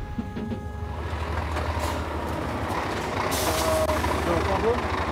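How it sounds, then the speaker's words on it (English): Truck in Iceland crossing a flooded road, a low diesel drone growing louder as it nears, with a hiss of air or splashing water partway through, while people talk and cheer nearby. "I can see the truck coming back"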